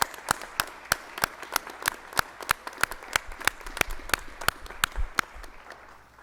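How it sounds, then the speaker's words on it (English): An audience at an Honors Day awards convocation gives a round of applause, a steady wash of many hands with a few individual claps standing out sharply and regularly above the crowd. "how about one more rousing round of applause"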